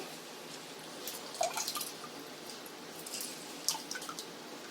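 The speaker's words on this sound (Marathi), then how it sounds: "आता लिंबूचा त्याच्यामध्ये ज्यूस काढून घेते." Juice from a squeezed lemon drips softly into hot water, a few small scattered drops, quiet and close.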